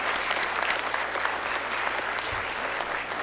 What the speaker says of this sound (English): Let's give a round of applause for all the kids.